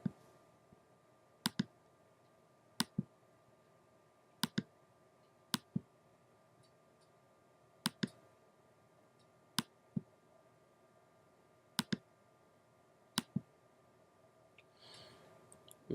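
Quiet, close computer mouse clicks come as single and double taps spaced irregularly over a faint room hush, with no talking.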